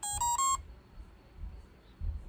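A short burst of electronic tones from a Boost electric surf fin, quick stepped beeps close by, then near silence with faint handling noise.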